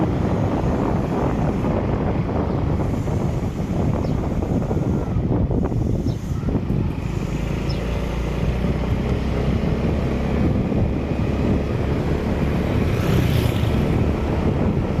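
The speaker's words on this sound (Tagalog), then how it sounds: "Sarap ng hangin." Wind buffets the microphone outdoors, a steady loud rumble with broadband roar and gusts, no speech, heard throughout.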